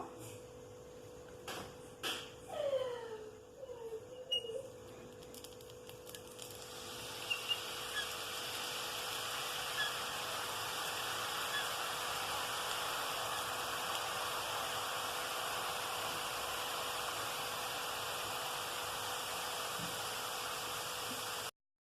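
Omapodi dough, a Tamil fried snack, is pressed into hot oil and begins to fry, a steady loud hissing sizzle that rises after a few squeaky scraping sounds and holds evenly to the end.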